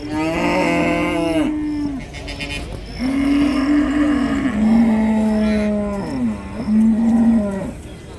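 Cattle moo loudly and close by at a livestock market in Kundarapalli, Krishnagiri district, India, one long low call after another overlapping, with a busy background of other animals and noise.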